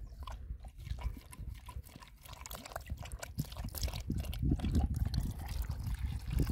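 Water trickles and splashes unevenly from a bottle into a dog's bowl, close and quiet, with soft gurgles toward the end.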